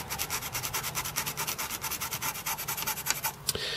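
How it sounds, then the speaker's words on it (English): A fiberglass pen scrubs the contacts of a Commodore Amiga A2000 circuit board clean, making a rapid, even back-and-forth rasping close up that stops abruptly near the end with a couple of small knocks. "we'll just clean up these with the fiberglass pen"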